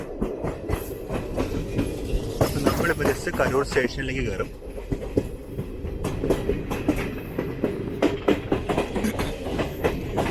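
A Jan Shatabdi Express, train 12084, runs on rails between Coimbatore and Mayiladuthurai, with a steady rumble and rhythmic clickety-clack of wheels heard from inside a carriage, while someone talks over it throughout.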